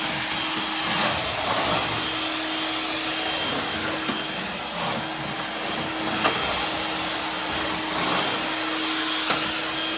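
A vacuum cleaner runs continuously close by while an indoor floor is cleaned, with a steady loud motor whine and a constant airy roar and no pauses.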